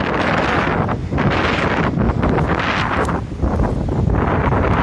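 Strong hurricane-season wind roars continuously and loudly, buffeting the microphone with a dense rumbling rush that swells in gusts, with no voices.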